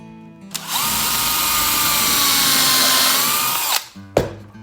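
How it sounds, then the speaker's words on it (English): A power drill drives a screw into wood: one loud sustained whir rising and holding for about three seconds, then stopping, followed by two short trigger bursts, close and alone. "Screw going in now."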